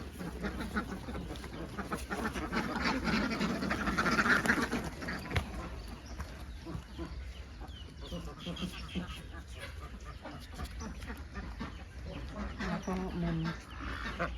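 Ducks quacking and poultry clucking throughout, a busy farmyard chorus close by beside a water trough where ducks lay eggs, with some faint voices mixed in.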